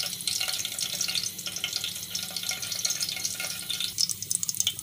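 Cumin seeds frying in hot oil, a dense bright crackling sizzle that holds steady throughout with sharper pops toward the end, close and fairly loud, no talking.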